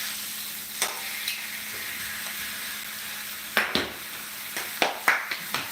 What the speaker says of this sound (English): We get a nice sear on there